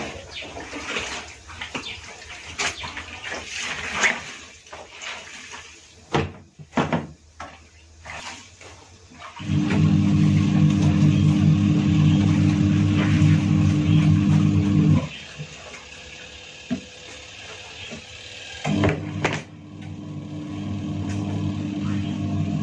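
A washing machine runs a load of clothes, its steady churning hum rising loud in long stretches after a few close clattering handling noises, then pausing briefly before starting up again.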